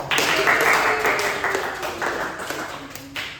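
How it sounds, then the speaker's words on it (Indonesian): Students in a classroom applaud a group presentation, a busy burst of clapping from many hands mixed with overlapping voices, fairly loud and close, easing off slightly toward the end. "Tepuk tangan dong."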